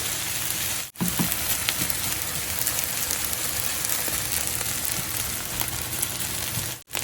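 Indonesian nasi goreng fried rice with sweet soy sauce sizzles steadily in a pan, a dense, continuous crackling hiss at close range with no talking, briefly cut off twice.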